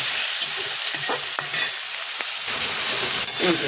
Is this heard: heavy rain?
no